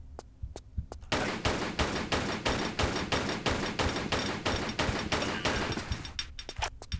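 Sustained automatic MP5 fire in Tomb Raider 3, a rapid, evenly spaced burst of loud shots running for several seconds, with a few isolated single shots before and after and no talking.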